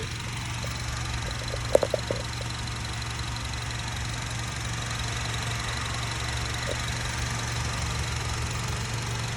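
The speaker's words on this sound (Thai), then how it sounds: "เครื่องยนต์ก็เดินเรียบเงียบเลยนะครับผม" A third-generation Honda CR-V 2.0 engine idles steadily with a low, even hum, constant and smooth throughout, with a few faint clicks near the start.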